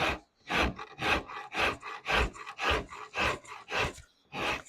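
A rasp filing wood while a guitar neck is carved, about nine steady, rhythmic strokes, each a coarse scraping burst with short gaps between, close and fairly loud with no talking.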